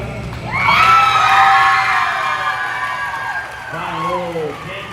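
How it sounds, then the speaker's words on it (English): An audience at a 2025 market lamb livestock show cheers and whoops for the exhibitors, a loud burst of crowd noise that swells, fades and rises again briefly, with voices mixed into the cheering. "give all four of these exhibitors one more big round of applause"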